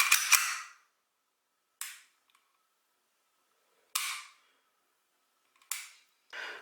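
HK USP .40 pistol dry-fired, with a few sharp mechanical trigger clicks and snaps spaced apart, close and crisp against near silence.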